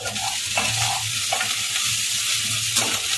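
Onion poha (chirer pulao) being stirred gently in a hot pan, a steady sizzle with soft scraping strokes recurring every half second or so, close and continuous with no talking.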